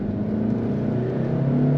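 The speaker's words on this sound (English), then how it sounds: "That engine is just so nice. It's really torquey." Audi car engine heard from inside the cabin as it accelerates, a smooth muffled hum whose pitch climbs steadily, fairly quiet and insulated with no talk.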